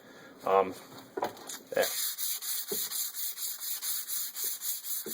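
Sandpaper of 220 grit rubs back and forth over the blued steel of a Mosin Nagant rifle, a steady rhythmic scuffing close to the microphone after a few brief louder strokes, with a faint voice at the start.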